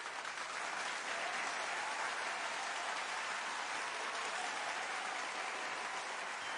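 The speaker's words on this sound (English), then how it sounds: "Let me just give a round of applause." A round of applause from an audience, dense even clapping that holds steady throughout at a moderate level, with no voices over it.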